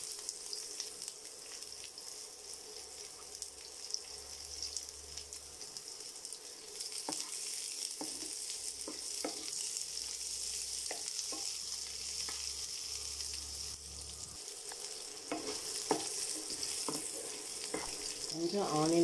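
Onions frying in hot oil in a pan for pachamilagai pulimandi, giving a continuous close hissing sizzle with occasional stirring clicks and taps.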